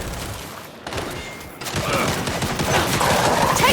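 Sustained gunfire in the Gears 5 video game, dense rapid bursts from turrets filling the whole stretch, loud and continuous, with no clear voices.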